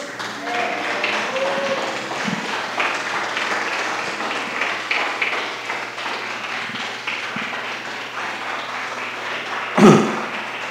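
A church congregation claps in praise to God, a dense, continuous patter of hands filling the room, with a brief louder knock near the end.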